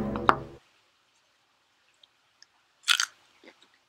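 A single crisp crunchy bite into a raw carrot, followed after a pause by a brief crunching chew, with only a few faint clicks between in otherwise quiet surroundings.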